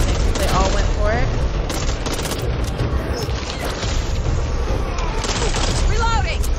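Video game firecrackers crackle in a dense, continuous run of rapid pops and bangs, loud and close, with game sounds layered throughout.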